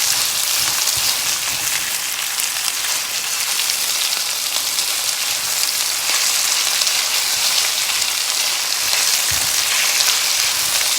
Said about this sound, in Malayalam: സവോള നല്ലതുപോലെ ഒന്ന് വഴറ്റിയെടുക്കണം